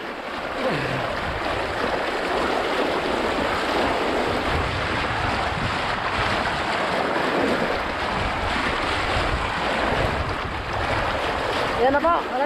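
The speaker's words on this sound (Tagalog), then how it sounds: "Lakas po ng agos." Strong river current rushing around a bamboo raft in a rural province, a continuous loud wash of water with wind buffeting the microphone and faint voices near the end.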